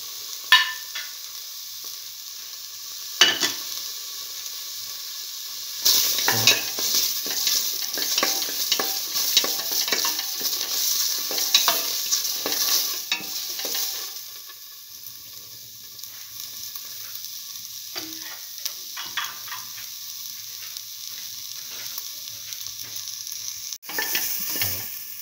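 Tomato pieces, green chili and curry leaves fry and sizzle in a pan while being stirred. Repeated scraping strokes sound close over a continuous crackle, then the stirring eases and the frying carries on with a few occasional clanks.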